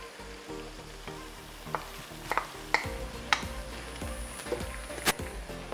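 Carrot, bell pepper and bacon frying in a pan for cabbage rolls, with a steady sizzle broken by scattered clicks and scraping clatters.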